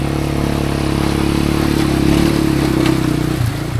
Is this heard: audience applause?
no